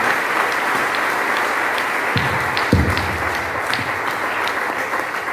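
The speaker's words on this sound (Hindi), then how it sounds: "बाकी लोग एक बार जोरदार ताली बजा के जो सुनने के लिए" An indoor audience applauds steadily throughout, a dense wash of clapping from a crowd at a success-story talk event, with a few louder individual claps standing out near the middle.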